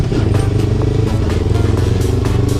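Motorcycle engine bogging as gears are shifted up too quickly without enough RPM, a rough low chugging with rhythmic clattery pulses, close and steady throughout.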